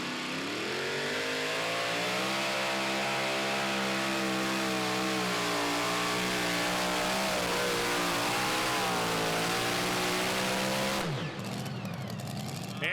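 A super modified 2WD pulling truck at a Pro Pulling League event in Franklin, KY screams at full throttle in one loud, sustained roar, its pitch climbing and wavering before cutting off sharply near the end.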